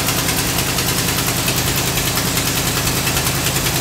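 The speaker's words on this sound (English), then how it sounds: "Couldn't figure out why the idle kept going up" A 1965 Cadillac engine idles steadily with a freshly installed carburetor, a loud, even mechanical rumble with a fast regular pulse and no voices over it.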